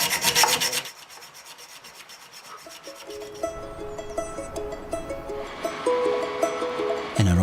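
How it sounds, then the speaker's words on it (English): A hacksaw cuts through a high tensile bolt outdoors at a forest site, giving repeated rasping back-and-forth strokes, fairly close and moderately loud, with no talk over it. "using a hacksaw to cut a high tensile bolt, which will take a bit of time"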